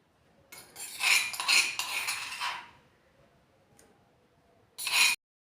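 Shallots, ginger and green chilies being crushed, heard as a cluster of hard knocking and clattering strikes, then a pause and one last short burst of knocks, close and fairly loud.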